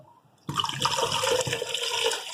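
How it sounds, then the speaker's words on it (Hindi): A sudden rush of water pouring into a cooking pot for fish curry begins after a brief quiet moment and continues steadily, splashing loudly and close by. "अब इसके अंदर हम डालेंगे पानी।"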